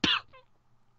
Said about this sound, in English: because I heard the cough